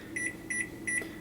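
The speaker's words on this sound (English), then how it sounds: "go to your microwave" A kitchen microwave oven beeps three times as its timer is set, evenly spaced short electronic tones at close range over a faint low hum.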